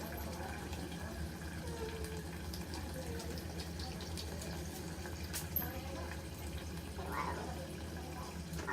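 Tap water filling a cup for cooking: a steady faint running and splashing under quiet kitchen noise, with a brief rising gurgle as the cup nears full near the end.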